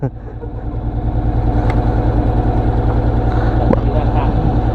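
A Honda X-ADV 750 motorcycle engine runs steadily at idle, loud and close, with an even low throbbing pulse throughout and a couple of faint clicks over it.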